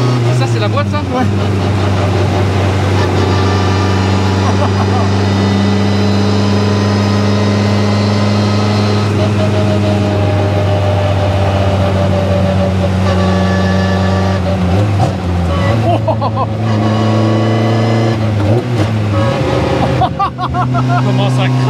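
A race-prepared car's engine and gearbox idle and rev up close, a steady loud drone with swelling pitch changes, while people talk over it.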